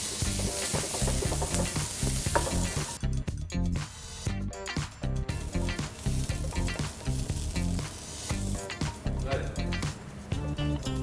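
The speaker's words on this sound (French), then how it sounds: "Voilà, les oignons commencent à caraméliser." Onions caramelize in a pan with veal juices, hissing in a loud, dense sizzle close up, broken by stirring and quick gaps, with a voice talking over parts of it.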